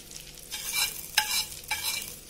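Hot tempering with curry leaves sizzles and crackles as it is poured into chutney, a few sharp bursts of frying noise rising and fading over a couple of seconds, fairly quiet and close.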